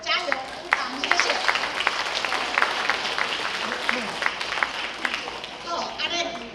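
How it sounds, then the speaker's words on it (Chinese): An audience applauds at a Father's Day gathering of Taiwanese elders, a steady round of clapping lasting several seconds with scattered speech over it. "我们大家跟他加油鼓掌"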